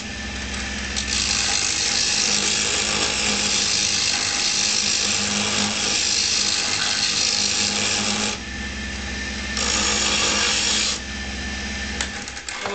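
A wood lathe spins as a large skew chisel turns a conical pipe stem, giving a steady close whirring hum with rasping cutting scrapes that ease off and return in stretches, with no one speaking.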